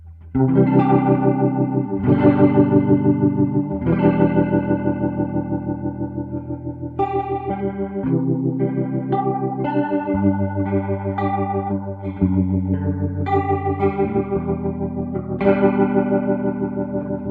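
Electric guitar through a fast-speed chorus effect in AmpliTube 5, strummed chords ringing out with a shimmering, warbling modulation, several loud strums spaced every couple of seconds with notes in between, no talking.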